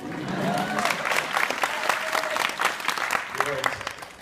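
A crowd at a San Diego Comic-Con 2015 panel breaks into applause, dense clapping that holds steady for several seconds with some voices mixed in.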